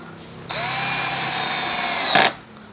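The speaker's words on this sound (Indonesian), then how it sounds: "Nah, enak dia kalau medianya tidak keras dan skrupnya juga tidak terlalu besar, enak lah, makanya masih aman." A DCA ADJZ2035i cordless impact drill drives a small screw into soft material. It makes one close, high motor whine of under two seconds that rises briefly in a louder burst before cutting off.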